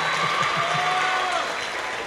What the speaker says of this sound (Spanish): Aplauso para Iván Valenzuela Villoso.